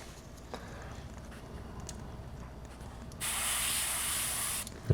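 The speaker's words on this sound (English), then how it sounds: "Add a couple more drops of paint into the airbrush here. We'll finish out those wing panels real quick." Aventus airbrush spraying paint onto model wing panels, a soft quiet hiss that swells to a louder, steady close spray for over a second before stopping, no talk.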